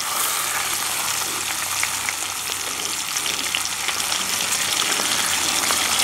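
Chicken pieces browning in a hot Dutch oven give a steady, loud, close sizzle and crackle with no pauses and no talking.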